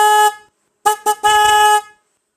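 Replacement car horn on a Hyundai Ioniq 6 honking loudly and close: one short blast, then two quick taps and a longer held honk, with silence between.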